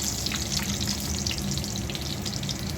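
Chopped onions and green chillies frying in oil for beresta. A steady, dense crackling sizzle holds evenly throughout at moderate distance, with occasional faint stirring and no speech.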